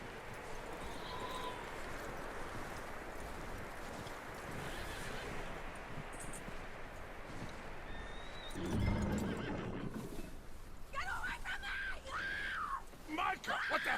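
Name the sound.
horse neighing, from video game Red Dead Redemption 2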